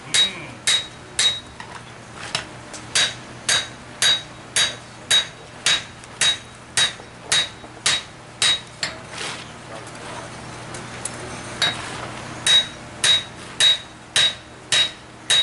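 A hammer rings against metal on a low anvil in a steady series of sharp, bright strikes, roughly one per half second, with a short pause midway before the blows resume, close and loud without speech.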